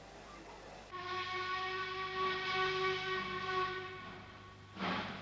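An LNER A4 steam locomotive in wartime black sounds a sustained, loud chime whistle for about four seconds over the rumble of its running, then the whistle cuts off and a brief burst of steam follows.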